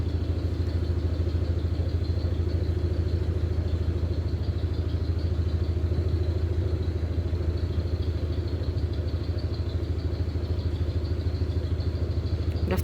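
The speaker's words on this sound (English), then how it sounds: "We'll have to turn the engine off at some point," Canal boat engine running steadily throughout, a continuous low rumble with light mechanical clatter, close and constant with no talk.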